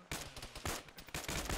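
Heavy machine gun firing in the military video game Arma, a rapid burst of loud, close, booming shots in quick succession with no talk over it.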